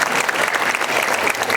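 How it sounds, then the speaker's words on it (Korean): Congregation applauding in a church service, a dense, loud, steady round of clapping filling the short stretch. "축복의 박수 한번 해주시기 바랍니다."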